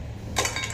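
Roasted coffee beans tipped into a wok clatter briefly with a bright rattling, clinking burst that starts partway in and lasts under half a second, over a low steady background hum.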